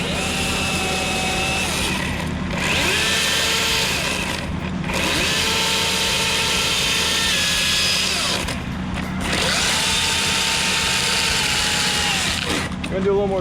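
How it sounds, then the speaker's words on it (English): Power tool grinding through a metal hinge, a loud continuous whining cut broken by short pauses where the pitch drops and restarts, close and dominant. "I'm gonna cut one side of the hinge and see if we can get it to roll off."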